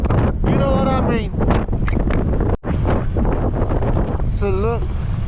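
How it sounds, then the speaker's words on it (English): Heavy wind of about 75 km/h buffeting the microphone at an abseiling site, a loud low rumble running beneath a man's speech with a short dropout midway. "today's wind power is like 75 kilometers per hour, so we can't abseil today."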